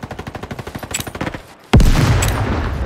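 Gunfire in the Roblox Frontlines shooter: a rapid, evenly spaced automatic burst of close shots, a brief pause, then a loud heavy blast with a sustained rumbling roar.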